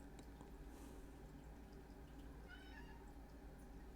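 A cat meows a few times over a steady low background hum, the calls faint and somewhat distant.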